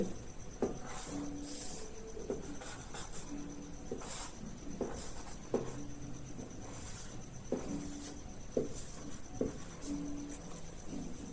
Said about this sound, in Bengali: সেল সাইকেলের একটা ছবি আঁকছি এখানেতে।